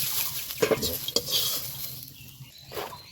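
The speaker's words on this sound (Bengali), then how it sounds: "এবার আমি ঢাকনাটা তুলে পপকর্নটা তুলে নিব" The lid is lifted off a pot of homemade stovetop popcorn and the popcorn is scooped out, with close metallic clanks, scraping and rustling, plus a faint sizzle underneath.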